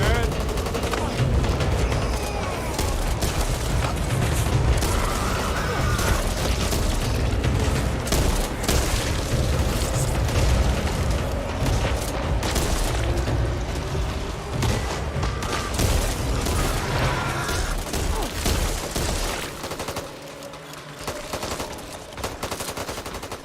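Dense gunfire and explosions from the Back 4 Blood video game, rapid bursts and heavy booms rolling nearly nonstop for the whole stretch, loud and close, with voices talking over the fighting.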